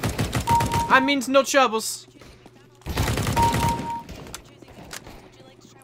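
Rapid gunfire in the video game CS:GO crackles in quick bursts of sharp shots, partly under someone talking, with a quieter stretch of scattered clicks and shots afterward.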